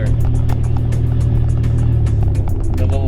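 A Chevy S10 pickup with no muffler idles loudly, its raw exhaust pulsing in a steady rhythm close by. The engine briefly revs near the end.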